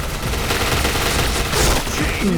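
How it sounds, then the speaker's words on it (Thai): Rapid bursts of gunfire from the Point Blank online shooter game, sustained and dense throughout, with overlapping shots and no talk over them. "หัวห้องนี่ยิงไม่หยุดเลย"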